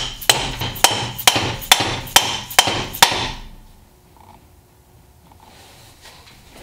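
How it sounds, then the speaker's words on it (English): A hammer drives a pin into a Dana 44 axle carrier with eight sharp metallic strikes in a fairly even rhythm, close and loud, then the workspace falls almost silent. "that's part of the reason why it's so hard to hammer this in and keep it straight"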